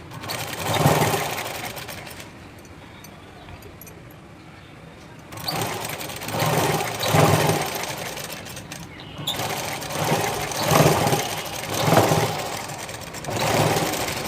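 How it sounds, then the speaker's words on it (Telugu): An electric sewing machine stitches a blouse in bursts, a rapid mechanical whirring that stops for a few seconds of near quiet and then resumes in several pulsing runs, close and fairly loud. "ఒకసారి మిషన్ మీద ఇలా పెట్టుకొని కుట్టుకోండి"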